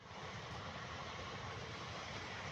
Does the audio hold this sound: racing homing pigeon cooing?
no